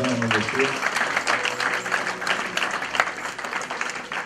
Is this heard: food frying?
no